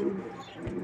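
Pigeons at home cooing softly, a low murmuring coo with a brief deeper pulse near the end, close and fairly quiet.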